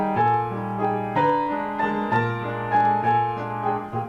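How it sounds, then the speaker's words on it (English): Barrel organ music from Puccini's Il Tabarro, deliberately out of tune, plays a short jaunty tune with clashing intervals, its notes tooting in a bouncy, evenly pulsed rhythm. "the out-of-tune barrel organ in Il Tabarro"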